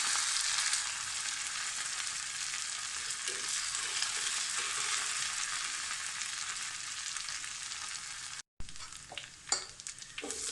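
Shallots and curry leaves frying in hot oil for a banana-flower dish, a steady dense sizzle that holds loud and even, cuts out briefly near the end, then returns with a few sharper crackles and stirring knocks.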